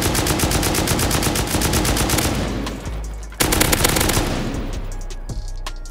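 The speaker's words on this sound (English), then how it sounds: "We just need to use explode ammo here." Rapid automatic gunfire using explosive ammunition rips into a wooden base in a survival video game, a dense, loud continuous barrage that pauses briefly near the middle before resuming hard.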